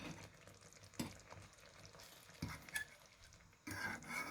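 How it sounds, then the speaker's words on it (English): A utensil stirs tomatoes and pepper into a sauce in a pan, making faint, intermittent scraping strokes over a quiet sizzle. "Stir the tomatoes and the pepper around into the sauce"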